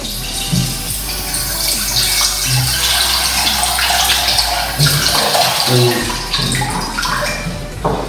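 Hot water runs steadily from a tap in a home kitchen, a constant loud gushing close by, with dull knocks and handling sounds mixed in.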